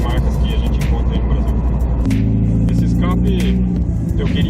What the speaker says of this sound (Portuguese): O som do escape